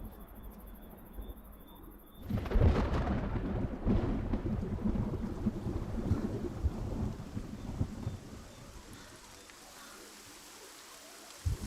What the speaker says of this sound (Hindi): बारिश भी हो गई।